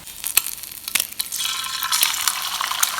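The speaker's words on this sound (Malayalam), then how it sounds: "എണ്ണ കുറച്ച് മാറ്റി വെച്ചിട്ട് നമുക്ക് ഇതിൽ തന്നെ ബുൾസാക്കിയിട്ടിടണം" A bullseye egg fries in a pan of oil, with a steady crackling sizzle and a few sharper spatters and pops over three seconds, close and fairly loud, with no talking.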